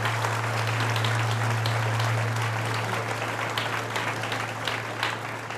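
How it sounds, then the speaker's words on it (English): A crowd at a Reform UK spring rally claps loudly and continuously, a thick roar of applause in a large hall with a steady low electrical hum underneath. "if we could give them a big round of applause, please"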